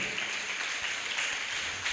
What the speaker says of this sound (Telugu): చప్పట్లు కొడదాం.